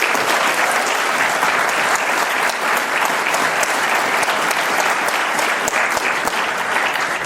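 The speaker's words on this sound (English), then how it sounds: "that's a huge round of applause for this committee" Theatre audience at a bluegrass festival concert in Westport's New Town Hall applauding the festival committee with sustained, loud, even clapping throughout.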